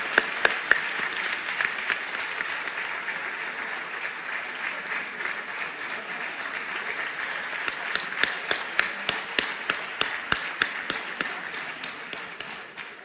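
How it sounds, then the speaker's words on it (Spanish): Steady applause from a crowd in Venezuela's National Assembly, many hands clapping continuously, with a few sharper individual claps standing out near the end. "Por favor, un fuerte aplauso para ella."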